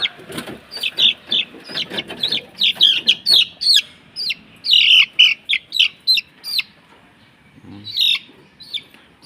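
Pumpkin-hatch chicks and fowl cluck and peep in rapid, close bursts, a steady run of short calls that briefly pauses before a final few clucks.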